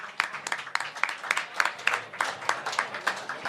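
Audience at a live comedy show in a tavern clapping, a rhythmic, fairly close round of applause with distinct sharp claps in a loose steady beat, moderately loud.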